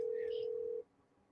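A telephone dial tone hums steadily while a call is placed, then cuts off abruptly after under a second, leaving faint background noise.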